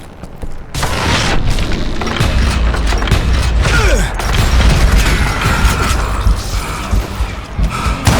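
Dynamite blasts in the Call of Juarez Gunslinger game: a loud booming burst after a brief lull, followed by sustained rumbling debris and crashing that stays dense and heavy for several seconds.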